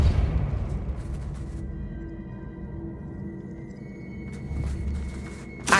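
Depulso force-push spell cast in the video game Hogwarts Legacy: a deep, rumbling magical boom with sustained ringing tones, a heavier burst of noise at the start and a sharp crack right at the end.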